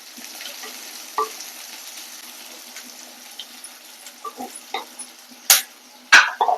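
Onions frying in a pan with green chilies and curry leaves, a soft background sizzle broken by scattered scrapes and clinks of stirring that grow louder and more frequent toward the end.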